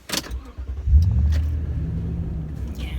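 A 2018 Toyota Tundra 1794 Edition pickup truck starts up, a quick crank catching into a loud, deep engine rumble that settles to a steady close idle with no talking.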